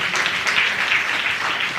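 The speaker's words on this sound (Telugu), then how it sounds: "చప్పట్లు కూడా దేవుని మహింపరచుదాం." A church congregation claps together during a Sunday worship service, a dense, steady patter of many hands that runs loud and unbroken for about two seconds.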